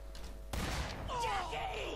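A sudden sharp gunshot in the video game The Darkness 2 bursts out after a quiet moment, followed by a ringing, whining tail and low rumble.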